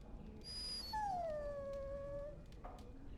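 A dog whimpers in the video game Dragon Age: Origins, giving one drawn-out, high whine that slides downward and fades. The whine is faint and stands alone over a low background hum.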